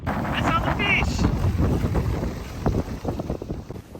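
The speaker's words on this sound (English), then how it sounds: "It's super windy here." Strong wind buffets the microphone on an exposed sand spit at a beach point on the Ningaloo Reef, a loud continuous roar with gusty surges throughout and a voice talking over it.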